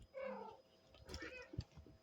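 A house cat gives a short, close meow, followed by a few soft thumps and shuffling sounds as it moves about indoors.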